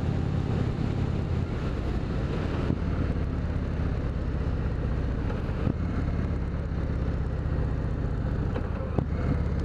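An Indian Springfield Dark Horse motorcycle engine drones steadily under engine braking with a low, even rumble while riding, mixed with wind noise and a few brief knocks.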